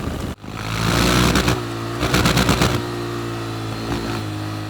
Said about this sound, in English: it's really easy to forget that you're in manual mode and just hit the rev limiter